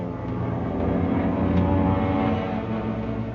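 Aircraft engines drone overhead in a 1943 wartime Pacific radio drama, a steady, loud propeller roar that swells slightly in the middle and holds throughout with no voices.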